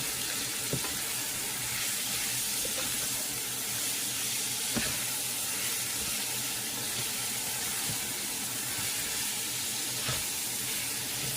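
Green pepper, onion and tomato mixture sizzling steadily in a hot pan, a constant broad hiss with a few faint clicks, no voices.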